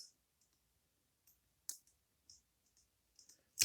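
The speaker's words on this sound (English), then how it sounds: "It's just bouncing back and forth, clicking them up little by little." Lock pins being picked on a Goal Z lock, heard as faint, sparse, sharp clicks scattered over near silence, with a louder scrape at the end.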